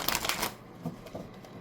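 Tarot cards are shuffled close by in a short burst of crisp, riffling flutter that settles into a few soft taps.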